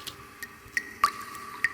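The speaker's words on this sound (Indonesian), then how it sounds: "tetesan air" Water drips at night, probably from a bathroom tap. Five or six separate plinks fall at uneven intervals against a quiet background, each a short, clear, ringing drop.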